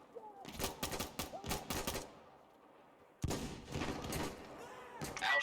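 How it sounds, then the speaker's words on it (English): Shotgun blasts in the video game Insurgency: Sandstorm during a co-op match, several loud booming shots in two bursts separated by a brief lull, with faint voices in the background. "Ow, shotgun."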